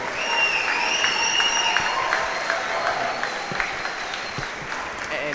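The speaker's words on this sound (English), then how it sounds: "let's have another round of applause for the world number 7 and world number 11" Audience applause fills a squash venue for two professional players, world numbers 7 and 11, steady and loud across the whole stretch, with crowd noise and a few voices mixed in underneath.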